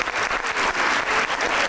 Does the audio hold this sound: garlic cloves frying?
no